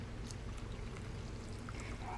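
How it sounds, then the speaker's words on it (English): Hot simple syrup pours from a pot into a cup in a kitchen, a soft continuous close trickle over a low steady background hum. "I'm going to go ahead and transfer it here to this cup."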